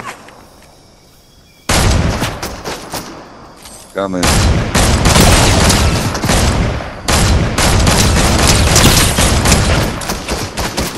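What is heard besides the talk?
gunfire in Fortnite video game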